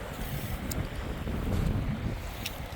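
Strong nor'easter wind on a cold beach in Gloucester, a continuous rushing roar buffeting the microphone close up, with surf blended into the steady noise.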